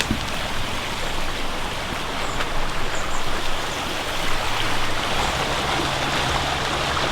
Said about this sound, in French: Elle est sympa cette rivière.